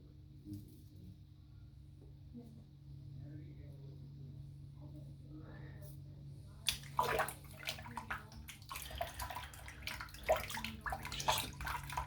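Running water rinses soap from a shaving brush, a soft steady splashing that starts partway through after a quiet stretch with faint background noise.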